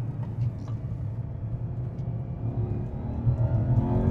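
Porsche Panamera GTS first generation, its naturally aspirated engine droning and building as the PDK gearbox works through the gears, a steady low engine note that swells louder toward the end.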